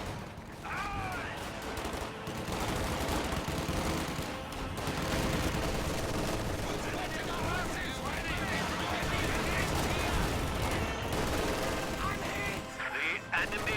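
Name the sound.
light machine gun fire against a machine gun in a video game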